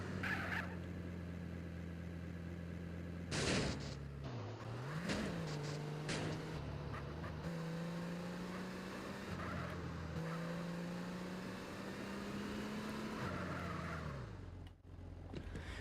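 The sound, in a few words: car driving in video game GTA San Andreas Definitive Edition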